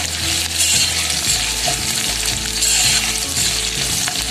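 Green chillies and ginger fry steadily in a pan for fasting-day potato bhaji, a dense continuous sizzle with occasional stirring scrapes, close and loud with no talking.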